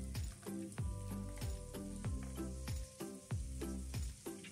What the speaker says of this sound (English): So just add that onto your vegetables and mix that in.